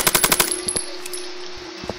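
In an Among Us-style shooter video game, a gun fires a rapid burst of close, loud shots, followed by a few single shots amid a steady background hum.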